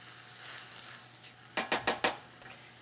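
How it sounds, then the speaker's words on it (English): Ground turkey sizzles softly in a pan while a utensil stirs it, four quick scraping knocks against the pan in a row followed by a fainter tap, close by with no talking. "And we'll just give that a stir."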